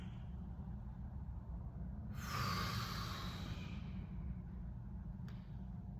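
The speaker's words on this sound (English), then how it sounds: "fully exhaling my breath" A person fully exhales during a weighted stretch in a strength workout, a single soft breathy whoosh rising midway over a low background hum.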